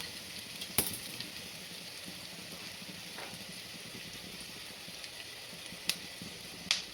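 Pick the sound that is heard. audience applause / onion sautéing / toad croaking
onion sautéing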